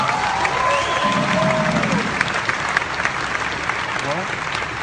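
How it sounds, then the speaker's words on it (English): Conference hall audience at a OneCoin financial event breaks into loud, dense applause with some cheering, steady and close throughout, a voice carrying over the clapping in places. "Can you give all of yourselves one big applause?"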